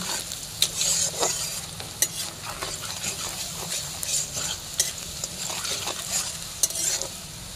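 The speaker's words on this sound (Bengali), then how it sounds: "এখন একটু হালকা করে নাড়াচাড়া করে নিয়ে পেঁয়াজগুলো হালকা লাল করে ভেজে নিচ্ছি।" Chopped onions sizzle in hot oil in a pan while a spoon stirs them, with steady frying hiss broken by repeated scraping, clinking stirring strokes close up.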